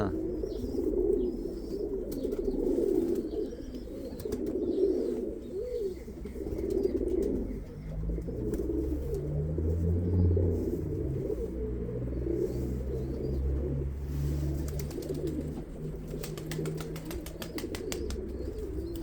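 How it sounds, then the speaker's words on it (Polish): Young pigeons cooing in a loft on an evening, steady low throaty coos continuing throughout, close and moderately loud, with faint chirps of other birds in the background. "tutaj pokazuję gołębie puszczone"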